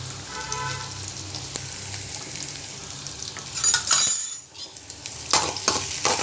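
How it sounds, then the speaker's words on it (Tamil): Onion fries in hot oil in a pan with a steady close sizzle, interrupted by bursts of stirring and light clinks of a utensil against the pan. "இப்போ ஆனியன் போடுறேன். ஓகேங்களா? ஆனியன் நல்லா ஃப்ரை பண்ணிடுங்க."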